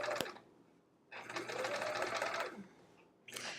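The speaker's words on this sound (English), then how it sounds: "I'm gonna just find a line on my sewing machine here" A sewing machine stitches quilt binding in two bursts of steady close whirring, separated by a short pause, with another burst starting at the end.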